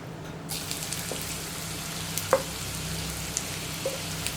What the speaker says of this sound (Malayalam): ഇതിലേക്ക് നമ്മൾ മസാല പുരട്ടി വെച്ചിരിക്കുന്ന വെണ്ടയ്ക്ക ചേർത്ത് കൊടുക്കാം.